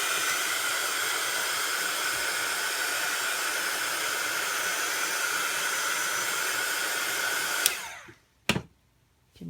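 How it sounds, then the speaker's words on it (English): A heat gun blows a steady, loud broadband hiss while drying the underside of a Stampin' Up paper craft, running continuously for most of the clip before cutting off, followed by a brief burst and quiet. "I'm going to just dry the bottom off with my heat gun."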